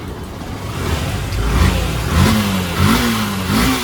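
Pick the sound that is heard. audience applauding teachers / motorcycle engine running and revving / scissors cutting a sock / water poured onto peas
motorcycle engine running and revving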